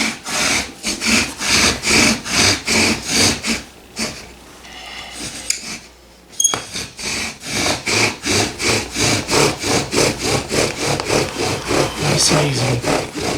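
A bow drill grinds against wood in rhythmic rasping strokes, stops briefly for a quiet pause, then starts again and runs faster and steadier, loud and close.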